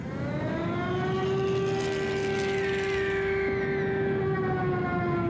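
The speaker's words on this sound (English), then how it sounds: "the sound of the air raid sirens filled the air" A loud, sustained air raid siren in wartime Kunming holds one steady wailing tone, droning continuously and filling the space.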